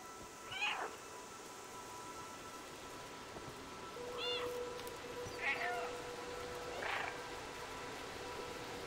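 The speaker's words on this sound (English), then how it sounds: "I am mewing along." Several short, thin meows from a cat in the video game Stray, spaced a second or more apart over a steady background hiss, with a faint sustained electronic tone running beneath.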